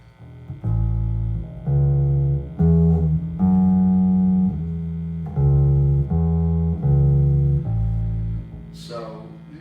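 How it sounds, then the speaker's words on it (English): An electric bass guitar plucked with the fingers, playing a sequence of deep sustained notes in a slow, even line, loud and close, ending with a brief scrape. "But playing with your fingers, you get more of that bass sound."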